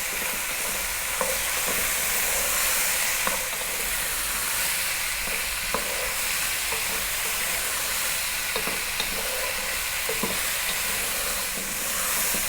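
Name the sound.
zucchini and dried oregano being stirred in a hot pot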